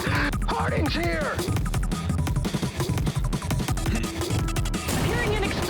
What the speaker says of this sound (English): Hearing an explosion!